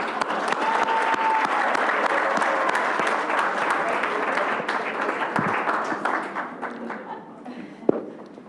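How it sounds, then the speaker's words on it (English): Enthusiastic crowd applause at a school board business meeting, dense and sustained, slowly tapering off near the end with a thump and some voices. "let's give him a round of applause"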